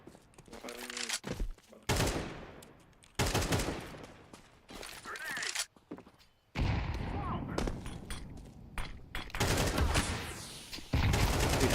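Bursts of AK rifle fire crackle from a Counter-Strike match in a pro esports game, coming in rapid clusters separated by pauses, with excited commentary talking over and between the shots.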